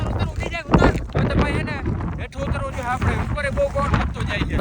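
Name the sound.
strong wind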